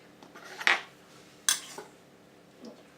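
Small spoon clinking against a bowl while mixing sifted icing sugar, two sharp ringing taps close up with a softer scrape afterward, no talk.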